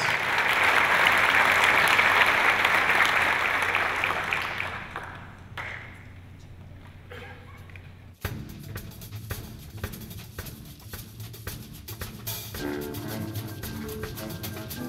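Audience applause after a community showband performance, loud, dense clapping that fades after several seconds, followed by softer scattered claps and quiet stage sounds.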